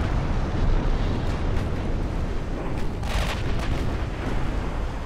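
Heavy shell hits striking a warship in the naval battle game Ultimate Admiral Dreadnoughts, a loud, dense, continuous roar of explosions and rumbling impacts with no clear breaks between them.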